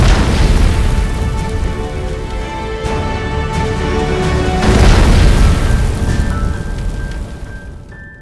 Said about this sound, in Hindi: एक तेज धमाके के साथ रात के ठीक 9:34 पर प्लेन क्रैश हो गया